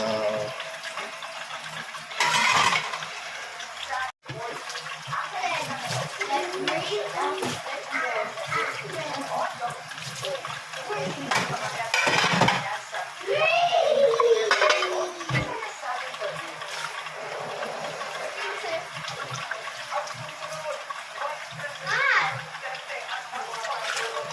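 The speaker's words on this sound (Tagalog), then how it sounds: "Patapos na tayo magbanlaw." Water runs from a tap while dishes are rinsed, a steady close splashing stream with occasional clatter, and someone talks over it throughout.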